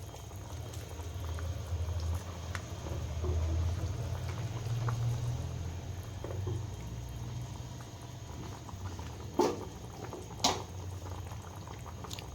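Thickened fish curry gravy bubbling at a low simmer in a pan, a soft continuous burble with a couple of brief clinks near the end, close and faint.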